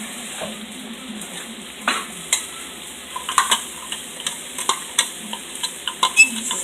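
Sauce for parmesan shrimp pasta stirred in a pan, with a low sizzle under a series of distinct spoon scrapes and clinks against the metal that grow more frequent toward the end.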